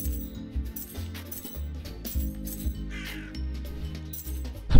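Harsh repeated cawing of a bird in the video game Charlie from the Swamp, several rhythmic calls over game music with clinking effects, ending in a louder hit.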